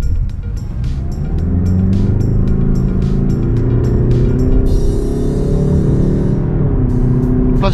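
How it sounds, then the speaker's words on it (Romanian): A Mazda CX diesel SUV with an automatic gearbox and 4WD accelerates on the road, its engine note rising steadily over road and tire noise, heard from inside the cabin with a rhythmic ticking in the background. "Îmi place cum se aude motorul în ture, zici că e motor pe benzină"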